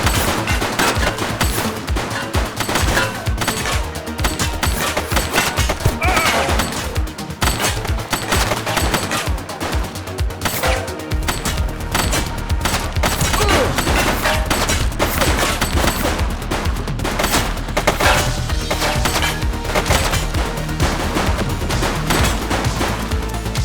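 Rapid, dense gunfire from a suspect in The Precinct, sustained bursts of loud close shots rattling on almost without pause, with a low rumble underneath for the latter half.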